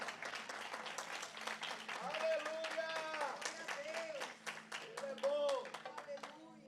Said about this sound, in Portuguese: Se é para aplaudir, dá a palma toda.